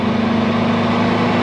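A 1966 car's engine runs steadily with a low, even hum and no voices.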